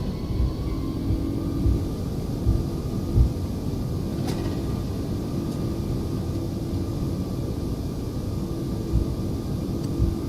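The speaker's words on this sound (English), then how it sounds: "Reversers are on." Thrust reversers on a Toliss Airbus A340-600 landing in the X-Plane 11 simulator, a steady low engine roar and rumble that holds evenly throughout, moderately loud with no voices.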